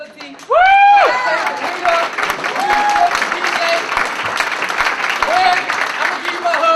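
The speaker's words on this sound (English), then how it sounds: "let's give a round of applause to Team No Excuse GMT, the registration, the beautiful facility" A crowd at an afternoon event breaks into loud, sustained applause with whoops and cheers, a dense wall of clapping after a short quiet start, with shouting voices on top.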